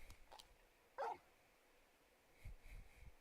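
A large dog in Final Fantasy XVI lets out one short, fairly loud bark, followed by a few faint low yips or whimpers in otherwise quiet surroundings.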